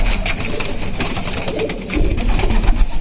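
Caged pigeons, a breeding pair with a newly brought female, coo loudly and close in overlapping throaty bursts, alone without talk.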